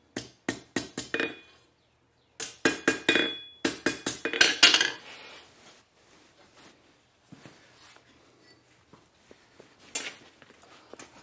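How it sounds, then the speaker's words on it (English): Chiselling mild steel while forging a cocktail stirring spoon: sharp metallic hammer strikes in quick bursts, a rapid cluster, a pause, then another flurry of ringing blows, followed by faint scraping and a few scattered taps. "I'll just chisel it"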